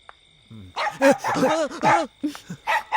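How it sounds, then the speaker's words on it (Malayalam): A dog close by gives a rapid series of sharp barks and yelps, loud and choppy, with short pauses between bursts. "അയ്യോ, അതൊരു പട്ടിയാ."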